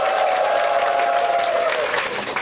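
A training session audience breaks into loud sustained clapping with shouting and cheers mixed in, a voice calling out over the dense applause.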